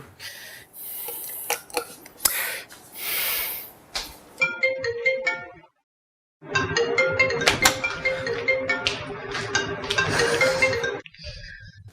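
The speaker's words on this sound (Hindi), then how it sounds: "फोन क्यों नहीं उठा रही है तू रानी?" A phone rings with a bright, repeating electronic tone, pausing briefly before ringing again, unanswered; clinking sounds come at the start.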